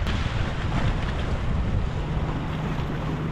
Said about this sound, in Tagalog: Lakas ng hangin dito, nakaka-relax.